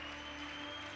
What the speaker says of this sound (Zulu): Lastly ngicela sishale abefundisi izandla